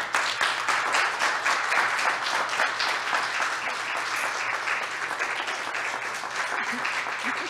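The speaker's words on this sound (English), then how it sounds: "please give a loud round of applause" A room full of people giving a sustained round of applause at a workplace introduction, dense steady clapping that holds evenly for several seconds with no talking.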